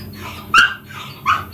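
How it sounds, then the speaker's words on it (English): A dog barks twice nearby, two loud sharp yaps about a second apart. "he is going to keep barking for a few minutes at least"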